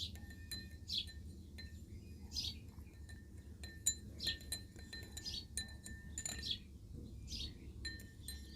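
A spoon stirs a pH meter calibration solution in a glass container, giving soft, intermittent clinks against the glass that stay faint, with birds chirping in the background.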